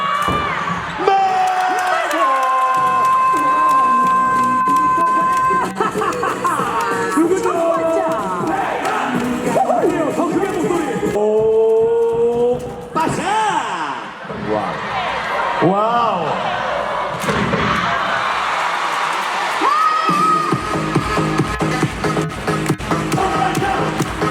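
Home fans cheer and chant loudly at a women's professional volleyball match, a dense arena crowd roaring steadily throughout with rising shouts, while voices call out over the din.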